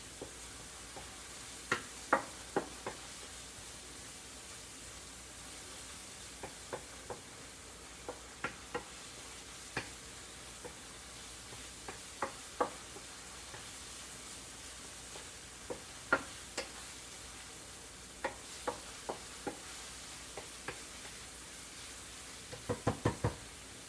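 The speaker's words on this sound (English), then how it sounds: "That hamburger's getting done." Hamburger meat for chili fries quietly in a pan with a soft sizzle, while a spoon stirs and scrapes it in scattered knocks.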